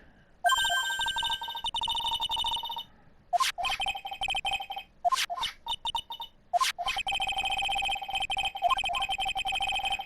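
Cell phone ringing in the Phoenix Wright: Ace Attorney courtroom game, a loud electronic ringtone repeating in bursts with short gaps between rings, heard alone with no talk.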